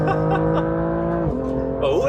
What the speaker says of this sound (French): écoute l'échappement